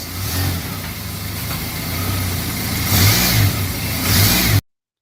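A car engine plays back from a video, revving and accelerating with rising and falling surges over a steady rumble. It is loud and close with no talking, then cuts off abruptly near the end.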